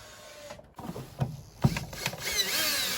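A power driver sinks screws into the wood of a kids' playhouse, with short whirring bursts and knocks of wood, close by and fairly quiet, ending in a longer sustained whir.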